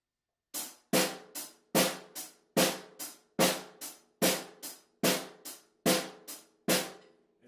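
A drum kit lays down a basic rock gospel groove in straight eighths, with crisp repeating hits in a steady pattern, close and clear with no voices.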